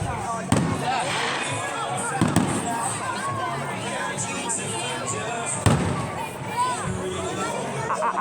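Fireworks boom in several sharp, loud bursts at a beach fireworks show, with crackling between blasts and people talking and chattering nearby throughout.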